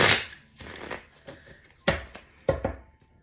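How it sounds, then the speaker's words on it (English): Close tarot card shuffling in short bursts, a rapid papery flutter then crisp snaps and taps as the deck is squared, with no talking. "One more shuffle for Leo. I'm going to give one more shuffle."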